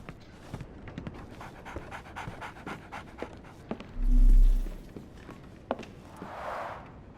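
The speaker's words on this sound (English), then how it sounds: "So, Barnes has a dog now." A dog pants in the Sherlock Holmes: The Awakened video game, quick breathy huffs in a steady rhythm close by, with soft footsteps and a brief low hum partway through.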